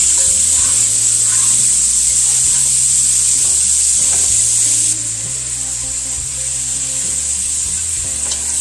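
Ground beef hamburger browns in a hot pan while being broken into pieces, giving a loud, steady sizzle throughout with scraping and stirring knocks underneath.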